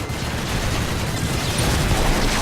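Gunfire in StarCraft II: Nova Covert Ops forms a steady, dense barrage of rapid shots that holds constant and swells slightly toward the end.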